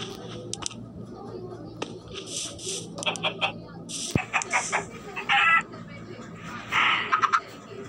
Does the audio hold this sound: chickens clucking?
yes